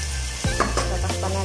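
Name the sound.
sautéing ginger, garlic, onion and tomato in a pan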